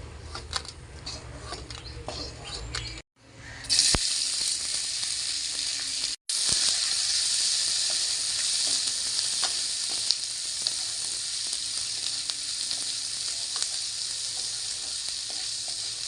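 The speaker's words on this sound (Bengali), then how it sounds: "এখন আমি সরিষার তেল দিয়ে শুকনো লঙ্কা ও পেঁয়াজ ভেজে নেব।" Dry red chillies and onion with a pinch of salt frying in hot mustard oil, a loud continuous sizzle with crackling and stirring that drops out briefly twice before resuming steadily.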